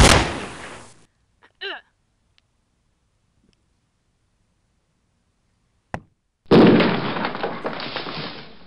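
Gunfire in a zombies video game: a loud burst at the start, a brief crack mid-clip, then a sustained loud blast of shooting after a near-silent gap, with a short voice-like chirp early on.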